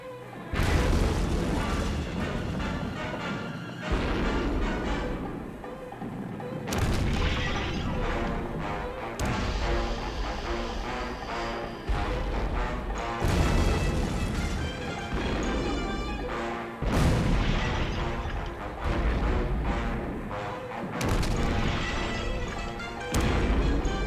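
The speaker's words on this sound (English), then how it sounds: "First there's a whole salvo of rockets and then nothing." A salvo of rockets exploding, a sound effect from the Thunderbirds series: a run of loud booms and crashes at irregular intervals over a tonal musical score.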